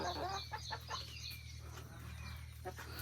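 Hens cluck and call in a busy farmyard with a rooster, a steady low hum underneath, with occasional bird calls rising over the continuous background.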